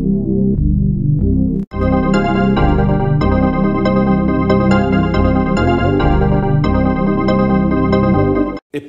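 The main melody instrument of a beat built without VST plugins plays a loud, bright run of tonal notes in a steady rhythm, with a brief gap near the start and no voices.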